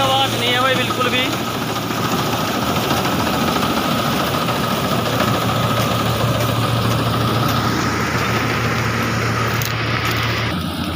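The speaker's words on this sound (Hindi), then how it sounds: "इसमें 6 सिलेंडर इंजन है, बड़ा इंजन है" A mini combine harvester with a large 6-cylinder engine runs steadily with a loud, continuous low hum and mechanical rumble, while someone talks over it throughout.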